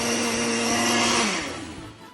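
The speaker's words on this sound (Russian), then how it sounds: "В блендере." A blender runs at a steady high whir as it purees still-hot homemade soup, loud and close, its motor pitch dropping and fading toward the end with no talk over it.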